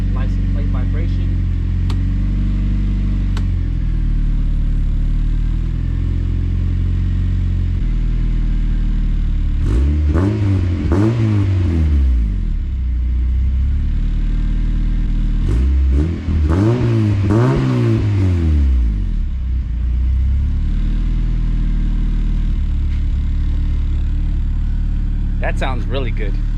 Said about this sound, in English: That, guys, is a 3-inch downpipe, straight pipe to a Vibrant 1147 3-inch street power box, 3-inch out the back bumper, and it sounds freaking amazing.